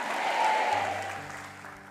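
A church congregation gives a short burst of applause. It swells and then fades, with a tonal hum from an organ or sound system coming in underneath.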